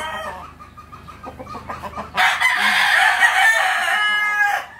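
Hatch gray gamecock crowing loudly and close by, one long sustained cock-a-doodle-doo following softer clucking and fowl calls, with no talk.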